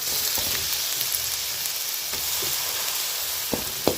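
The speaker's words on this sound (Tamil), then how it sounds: "இப்போ இது வாசனை போகிற வரையும் நல்லா வதங்கட்டும் இது நல்லா வதங்கி இப்போ இதில் நம்ம சிக்கனை சேர்த்துக்குவோம்" Masala sizzles and fries steadily in a hot pan for chicken biryani, a continuous close crackling hiss with occasional soft taps and stirring knocks, no voices.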